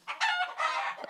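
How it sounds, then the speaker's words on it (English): A chicken clucks and squawks up close in a quick run of rough, rising calls, fairly faint overall. "So what mood's that chicken in?"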